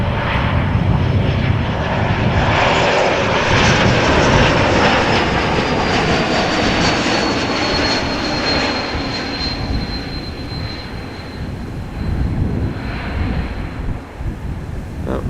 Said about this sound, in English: KLM flight 935 E2 Embraer 195. She's arriving from Dublin, Ireland, and brand new.